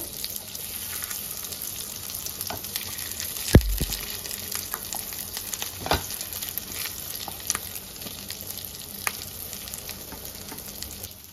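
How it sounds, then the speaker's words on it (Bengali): Eggs frying in oil in a pan, a low steady sizzle throughout with scattered crackles and a brief thud near the start, no voices. "সব ডিমগুলো আমি এখানে দিয়ে দিয়েছি। এবার আমি একটু ভালো করে ভেজে নেব।"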